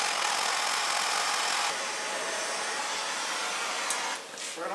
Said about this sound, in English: I took my MAP gas torch to heat up the round stock to bend my handle into shape